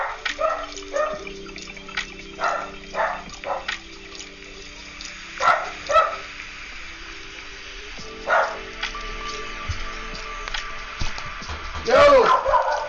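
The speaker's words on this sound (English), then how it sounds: "my dog is barking really loud" A dog barking repeatedly indoors in short bursts, fairly loud but muffled, with a steady hum and game sounds running underneath.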